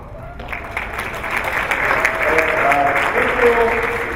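Audience applause at a school district State of the District event, a steady wash of many hands clapping at moderate distance with some voices in the crowd.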